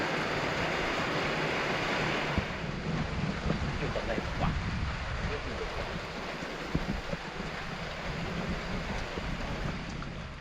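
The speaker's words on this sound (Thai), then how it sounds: "ตอนนี้เนี่ยฝนตกนะครับ" Heavy rain pours down steadily in a dense, roaring wash while the speaker shelters under a roofed pavilion, loud and continuous throughout with no talk.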